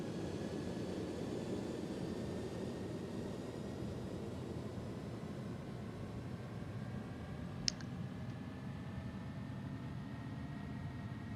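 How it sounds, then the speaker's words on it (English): Twin aircraft engines at takeoff power in a flight simulator game, a steady loud broadband roar with high whining tones, continuous and close, with a single brief click partway through and no talk. "Oh my goodness, listen to those engines."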